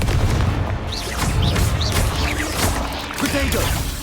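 Explosive Confringo spell blasts in Hogwarts Legacy, several booming hits and whooshing bursts in quick succession, loud and close, with game effects layered throughout.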